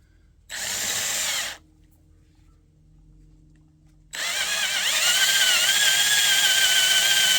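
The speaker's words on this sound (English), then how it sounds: "So we'll drill it from the back side. Try to drill it square." A power drill whines in a short burst, stops for a few seconds, then starts again and runs steadily, loud and close, pitch shifting under load, drilling a Snapper rear engine rider mower part.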